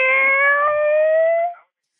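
A person imitates a cat with one long drawn-out meow, loud and close, with a steady tone that falls silent at the end.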